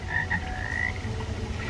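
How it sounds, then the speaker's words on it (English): Recorded frog croaks play from a speaker beside a babbling brook along a resort's enchanted forest walkway, a few near, rasping calls over the soft steady rush of water. "you can hear babbling brook with frog sounds"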